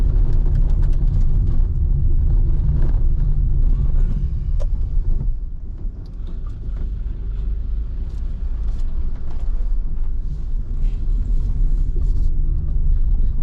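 A small car creeps slowly over a potholed stretch of the Malshej Ghat road near bridge works, giving a loud, steady low rumble with bumps and rattles and a brief dip midway.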